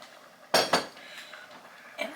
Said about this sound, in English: we're just going to kind of stir that here.